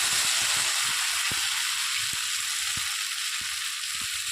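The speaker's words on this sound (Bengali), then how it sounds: "এবারে বেশ খানিক্ষণ মশলার সাথে আলুটা কষিয়ে নিতে হবে" Potatoes sautéing with spices in oil in a pan: a constant close sizzle with soft, regular scrape-like taps from stirring running through it.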